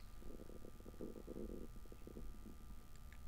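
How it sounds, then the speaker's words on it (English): A low, gurgling rumble rises and falls in bursts, faint and close, like a stomach growling in a quiet room. "Can y'all hear my stomach? It's like growling."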